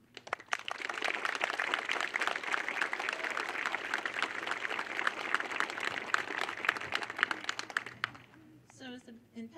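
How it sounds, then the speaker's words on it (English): Outdoor audience at a band farewell event claps for band parents, a steady, dense round of applause lasting several seconds before tapering off, followed by a voice speaking. "I'd like to get a round of applause for all you sitting in the back out there"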